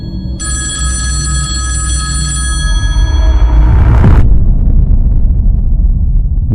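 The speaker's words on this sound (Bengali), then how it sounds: "বারোটা বাজার সাথে সাথে বেজে উঠল টেলিফোনটা" An old-style telephone bell rings in a continuous loud trill for several seconds as a sound effect in a scary audio story, then cuts off abruptly into a low, rumbling boom.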